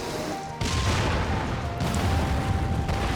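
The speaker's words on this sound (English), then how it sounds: "quite a big explosion." A large explosion in Final Fantasy 14 hits with a sudden broad boom, followed by a rumbling, crackling tail and a second burst, loud and sustained without talk.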